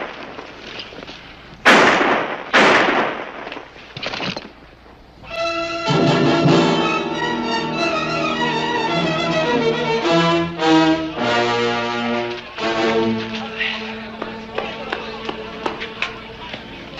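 Several sharp, loud gunshots ring out in quick succession during a western film shootout, then give way to voices and music.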